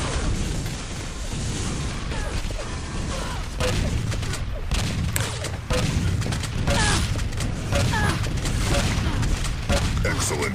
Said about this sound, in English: Need to pull out the machine gun to do damage at distance